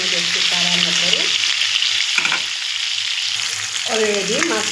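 Fish frying in a pan after being seasoned with salt and red colouring powder, giving a steady loud sizzle throughout with brief voice-like tones faintly over it.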